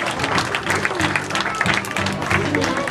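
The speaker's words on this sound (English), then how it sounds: "please give her a big round of applause" An Independence Day event audience gives a big, sustained round of clapping, loud and continuous, with a low murmur and a few voices faintly underneath.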